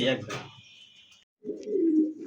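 A blue barless Lahori pigeon gives a close, deep, rolling coo after a brief chirpy call, loud and clear against near silence.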